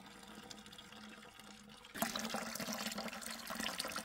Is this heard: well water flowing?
yes